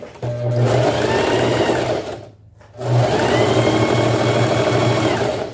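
A sewing machine stitches fabric close by, running in a loud steady whirring burst, pausing briefly, then starting again for another long run.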